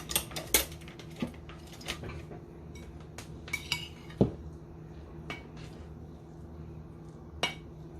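A spoon clinks against a bowl of vegetables, mixing in lemon juice for a Mexican-style vegetable bowl. Scattered sharp taps and scrapes come at an irregular pace, fairly close and moderately loud, with no talking.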